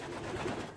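Pigeons in a freshly cleaned allotment loft with new shavings, heard as a soft, low cooing murmur under a quiet, steady background hum.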